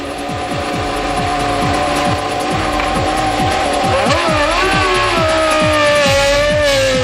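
A 2000 Arrows A21 Formula 1 car with a Supertec engine runs on track with a loud, continuous high-pitched engine howl that climbs in pitch midway, close by and alone.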